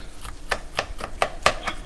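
Knife chopping through corn kernels on a cutting board while preparing elote, about six crisp, evenly spaced cuts close up with no talk.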